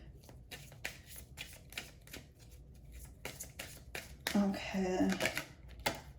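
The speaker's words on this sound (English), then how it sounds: "I'm going to pull one more oracle card." Oracle and tarot cards being shuffled and drawn, a run of soft papery flicks and taps up close, ending in a denser riffle near the end, with some quiet talk around it.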